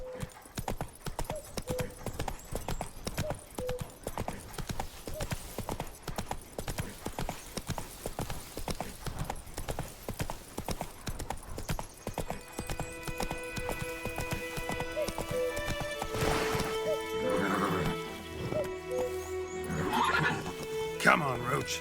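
Roach, the horse in The Witcher 3, gallops with a steady, rapid clip-clop of hooves, then whinnies as tonal game music rises. A rider's voice calls out over the hoofbeats.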